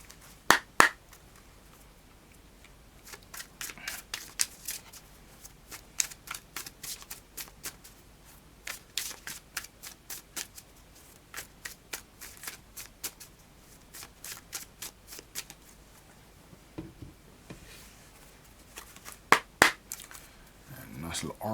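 Oracle card deck shuffled by hand in a series of crisp riffling bursts, some quick and clustered, others spaced out with quiet gaps, close to the microphone.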